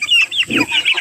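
Chicken clucking up close, a quick run of sharp, bright clucks in an uneven rhythm, loud and alone with no talk.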